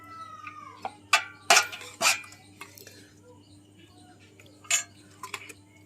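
Spoon clinking and scraping in a pot while chicken gravy is mixed into ghee for Kolkata-style chicken biryani, a few sharp metallic knocks spread over several seconds against a quiet, humming kitchen background.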